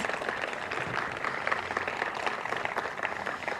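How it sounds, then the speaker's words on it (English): An audience applauds a council member at a public gathering, producing a steady, moderately quiet patter of many hands clapping with no single clap standing out. "Give him another round of applause"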